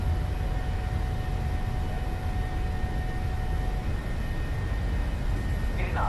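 Airliner engines in Flight Simulator spool up for takeoff, a broad, loud, steady roar with a thin whine that fills the whole stretch without pause.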